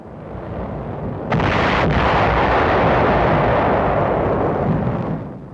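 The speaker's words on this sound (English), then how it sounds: "B-25s and P-51s strafe and bomb the island. The rocky Caballo hillsides are thoroughly pounded." Archival WW2 combat sound of B-25 bombers and P-51 fighters strafing and bombing the rocky hillsides of Caballo Island, a loud continuous roar of blasts and rumbling gunfire with sharp onsets.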